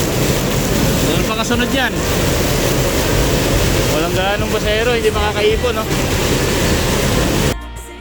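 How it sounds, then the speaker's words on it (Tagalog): Heavy rain pours steadily as people ride along an avenue, a loud, unbroken wash of noise under a voice talking, then cutting off abruptly near the end. "talaga malakas na nga yung ulan"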